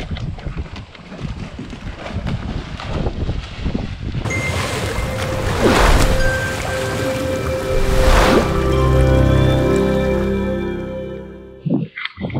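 Steady wind buffeting and rushing water from a ride on an eFoil above choppy waves on a very windy day, loud and continuous with swelling gusts and a faint motor whine, no talking.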